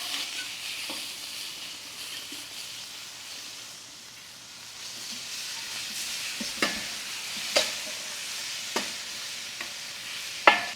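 About two pounds of bacon sizzle in a pan on a Weber 22-inch kettle grill, a soft steady hiss broken by occasional sharp clinks and scrapes of stirring, mid-distance.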